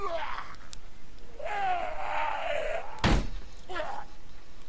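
In The Walking Dead video game, a single heavy door slam lands near the three-second mark over tense in-game voices and background sound.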